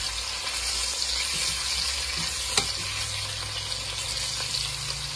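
Chicken pieces sear in oil in a pot for chicken cacciatore, with a continuous close sizzle and occasional stirring clinks. No one talks over it.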